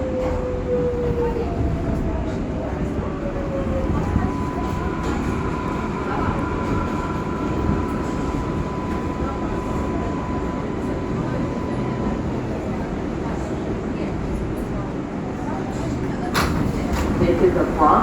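A Bronx-bound R142A 6 local subway train rumbles steadily along the IRT line in New York, a loud continuous roar with faint electric whines and an automated announcement voice over it.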